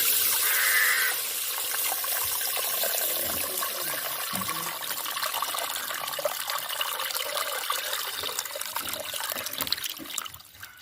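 Soaked tamarind water trickles and splashes steadily through a strainer. It is close and fairly soft, and no one speaks.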